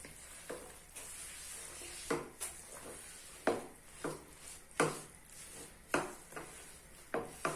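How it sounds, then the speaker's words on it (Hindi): Sesame seeds are stirred in a pan over a low flame for til ladoo, with a spoon scraping the pan in repeated rhythmic strokes above a quiet sizzle, near and clear with no speech. "अब हम इसमें डाल देंगे ये तिल और इसको हम अच्छे से मिक्स कर लेंगे।"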